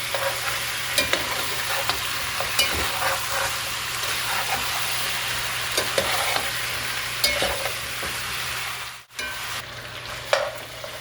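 Oxtail for Jamaican oxtail browns in a pot, giving a steady, soft sizzle with occasional stirring scrapes and clinks and a brief dropout near the end.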